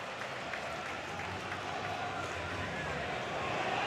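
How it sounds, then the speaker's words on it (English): Football supporters on their feet applauding at Tallaght Stadium during a Shamrock Rovers versus Shelbourne League of Ireland Premier Division match, a broad continuous wash of clapping and crowd noise building slightly toward the end. "applauding."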